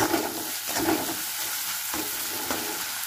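Tomatoes, green chillies and spices with salt are stirred in a hot frying pan, a soft continuous sizzle with a few scraping strokes of the spoon, close and fairly quiet.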